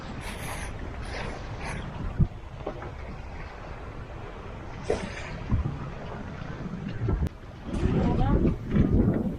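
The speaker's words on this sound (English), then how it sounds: "Wind's picking up a bit, isn't it?" Wind gusts rise and buffet a sailboat cruising along the coast at sea, with steady rushing noise, water wash and rigging sounds. A few people talk briefly over it.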